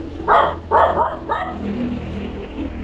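A dog barks three times close by, two loud sharp barks followed by a softer one, with a low hum in the background.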